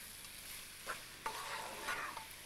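Colourful vegetables fry in a pan with a quiet sizzle while a utensil gives a few brief scraping stirs, soft and close with no voices.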